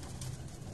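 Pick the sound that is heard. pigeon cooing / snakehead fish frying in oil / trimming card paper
pigeon cooing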